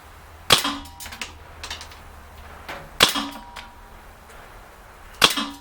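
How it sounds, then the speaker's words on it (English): Three sharp pistol shots, sounding like a Tanfoglio Gold Custom and a Sig Sauer X-Five fired at a range, crack out at spaced intervals, each with a short echoing tail, loud and close with no talking. "both guns I kind of did that unanticipated trigger release"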